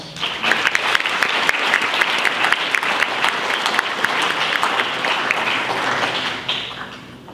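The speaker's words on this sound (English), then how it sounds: "So let's give her a big round of applause" Loud, sustained applause from a school audience at a Junior National Honor Society induction ceremony, many hands clapping steadily for about six seconds before thinning out at the end.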